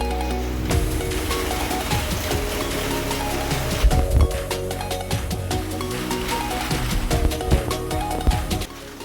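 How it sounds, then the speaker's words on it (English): Steady, dense heavy rain drums on a shed roof close by, with scattered sharper knocks and taps over a constant loud wash. "it's absolutely bucketing rain at the moment."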